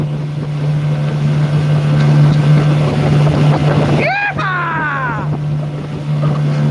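A Hydro Lab Boxer 410 aluminium boat with a Yamaha outboard cruises at steady speed, its loud engine drone constant under wind and hull noise, with a brief burst of a voice partway through.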